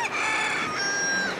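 A rooster crows once in a loud, close cock-a-doodle-doo, rising and then holding a drawn-out strained final note before it cuts off, with nothing else around it.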